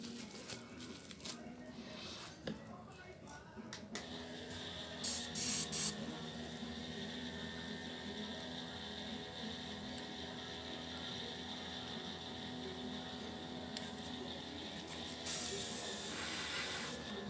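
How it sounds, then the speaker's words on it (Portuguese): An airbrush spraying paint hisses in a steady stream, with a few short louder bursts as the trigger is pressed, over quiet room noise and occasional speech. "Eu tô apertando, o aerógrafo ele tá soltando tinta."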